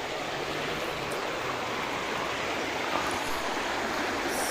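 A shallow river rushes past in an even, hissing flow of moving water, close and continuous with faint small splashes.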